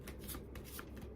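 A tarot card deck is shuffled in a quick, steady riffle of papery flutters, close and alone, with no voices.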